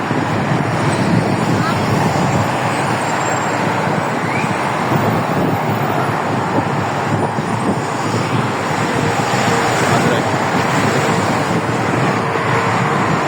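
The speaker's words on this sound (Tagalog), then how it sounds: "Hangin yun po." Strong wind roars steadily across the microphone during a walk through a Sharjah city area, a loud continuous rushing buffet that never lets up, with traffic noise mixed in.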